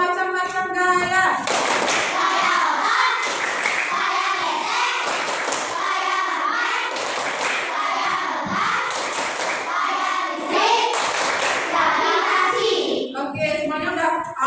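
A classroom of children claps together in a rhythmic chant about forces during a science lesson, loud bursts of patterned clapping mixed with young voices chanting along, steady throughout.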